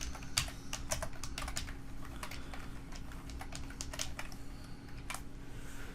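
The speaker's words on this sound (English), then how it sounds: "just type in here what you want your message to say" Steady, fairly fast typing on a computer keyboard, dense runs of light key clicks over a constant low electrical hum with no talking.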